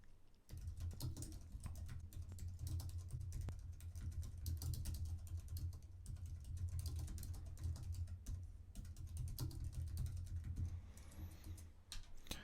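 Contact details being typed into a web form on a computer keyboard: rapid, steady clatter of keystrokes running for about twelve seconds over a low constant hum, with short pauses and no talking.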